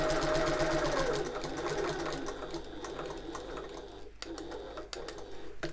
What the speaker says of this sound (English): at the tops where I'm doing my back stitching, I'm going to do a good solid secure back stitch